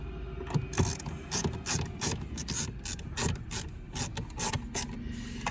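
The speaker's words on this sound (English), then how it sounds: "it locks in with a screw there and a screw there. And these are T20s, torque bits." A ratchet drives T20 Torx screws into a display mount in a Peugeot 508 car, giving rapid clicking bursts of pawl ticks in an uneven rhythm, close and clear, with no talk.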